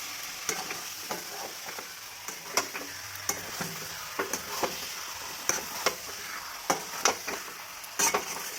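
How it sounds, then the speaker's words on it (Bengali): Chicken sautés with spices in a pan for a curry, a low sizzle broken by regular sharp scrapes and knocks of a spoon stirring, close and without voices. "চিকেনগুলো এবার ভালো করে মশলার সঙ্গে কষিয়ে নিব"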